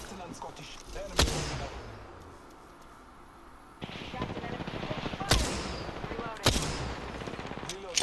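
Gunfire rings out in a video game, with a few sharp reports and rapid bursts that each trail off into a ringing echo, mixed with some background game noise and a voice talking at times.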